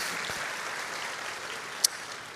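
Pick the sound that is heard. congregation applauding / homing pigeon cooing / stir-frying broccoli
congregation applauding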